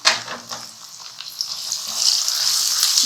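Chicken frying with sautéed onions, ginger and garlic gives a steady close sizzle with crackling bursts that swell louder toward the end, with no talk over it.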